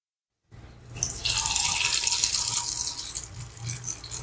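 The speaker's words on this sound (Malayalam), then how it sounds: "ഇനി ഇതിലേക്ക് നമുക്ക് മാവ് ഒഴിച്ചു കൊടുക്കാം." Traditional unniyappam batter made from ground rice is poured into hot oil and sets off a sudden, loud hissing sizzle that holds steady for a few seconds before easing slightly.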